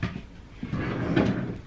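A dresser drawer in a child's bedroom slides open or shut while clothes are put away, a soft wooden thump and scrape close by, with no voices.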